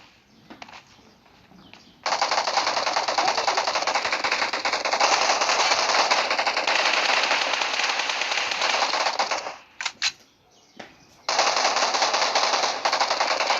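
Automatic gunfire in the PUBG Mobile video game, rapid continuous bursts that are loud and sustained, with brief pauses near the end before the firing resumes.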